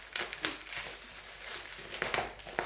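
A bubble-wrapped package is opened up close, with soft continuous crinkling and crumpling of plastic wrap plus a few sharper crackles, quiet and steady with no speech.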